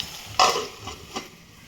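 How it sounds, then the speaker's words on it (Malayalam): Green chillies and curry leaves are sautéed in a hot pan for a Kerala egg roast, with two quick stirring scrapes over a light sizzle, close and brief. "പച്ചമുളകും വേപ്പിലയും കൂടി ഒന്ന് ആഡ് ചെയ്യാം നമുക്ക്. എന്നിട്ടൊന്ന് വഴറ്റി കൊടുക്കാം."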